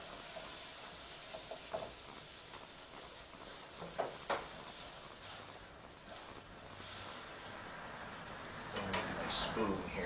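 Beef roulades sizzle and hiss steadily in a hot pan while browning, a constant close frying noise with occasional pops and clatters.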